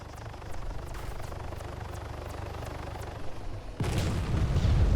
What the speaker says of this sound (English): The secondary explosion you heard was the first disabled chopper crashing behind me.